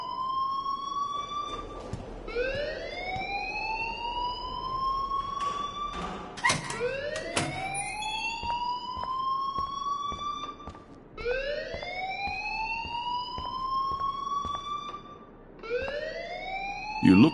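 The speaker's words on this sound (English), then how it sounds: "please turn off that alarm since that's your job." Rising, repeating siren-like alarm wails in the Life is Strange video game, loud and continuous with a few thumps and dialogue voices underneath.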